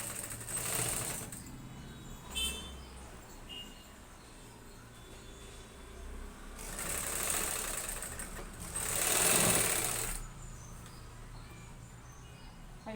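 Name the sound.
sewing machine stitching blouse piping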